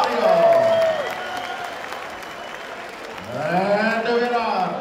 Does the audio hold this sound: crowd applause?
yes